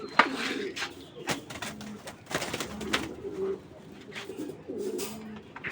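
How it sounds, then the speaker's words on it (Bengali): Soft, repeated coos of a racing pigeon rise and fall nearby, interspersed with faint clicks and rustling. "আমি একটু দেখাই এই কবুতরটা"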